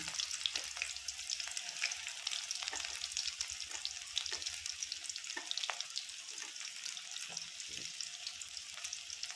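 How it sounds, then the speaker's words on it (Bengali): Onions sizzle and crackle steadily in a generous amount of hot oil, a continuous close frying hiss with scattered pops throughout. "তেলটা গরম হয়ে গেছে আমি দিয়ে দিলাম পেঁয়াজ কচি"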